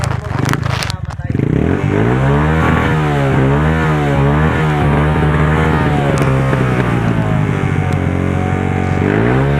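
A Smash 115 motorcycle keeps running while half submerged in waist-deep flood water in Calumpit, Bulacan, its engine droning loudly and steadily nearby after a brief rattling start, with no break in the running.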